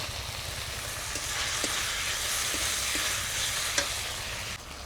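Ginger-garlic paste and chopped tomato fry in a pan with a steady, dense sizzle, a low rumbling hum underneath and occasional soft clicks of stirring, close and continuous with no talking.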